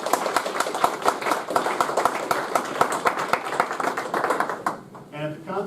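A lecture audience breaks into sustained, dense applause after a guest talk, many hands clapping loudly for about five seconds before fading as a voice starts speaking.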